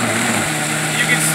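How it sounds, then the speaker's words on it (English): An Omega BL630 commercial blender runs at high speed, a loud steady motor whine with a broad rushing noise that fills the whole moment. "you can hear the RPMs aren't quite as quick on the Omega as on the Vitamix."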